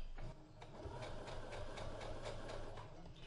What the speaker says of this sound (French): c'est parti pour un point d'arrêt et je continue à coudre